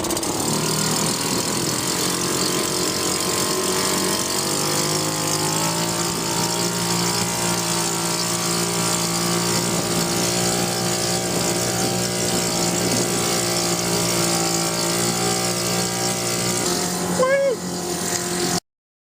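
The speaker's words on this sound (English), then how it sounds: "Just gonna put it in gear, activate the propeller now." A sailboat's inboard engine idles steadily, then its tone deepens and settles into a constant drone once shifted into gear to turn the propeller, running close and continuous while someone talks throughout.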